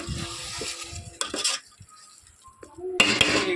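A spoon scrapes and clanks against a pan while stirring a dried shrimp and tamarind leaf curry. There are several bursts of metallic stirring at close range separated by short quiet gaps, with no talking.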